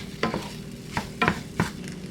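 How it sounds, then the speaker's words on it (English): Spam fried rice with onions, soy sauce and seasonings being stirred in a frying pan, giving several quiet scraping and shuffling strokes over a soft, steady sizzle. "Now I'm just going to stir everything up."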